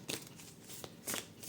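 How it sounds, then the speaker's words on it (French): Exercise cards with drawings on both faces being shuffled by hand, soft papery riffles in a few quick bursts, close and quiet with no talking. "je mélange bien les cartes"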